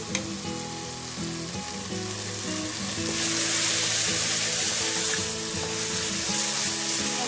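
Garlic and ginger frying with browned onions for curried chickpeas, a loud, steady sizzle that holds throughout and swells midway, with faint stirring and no talking.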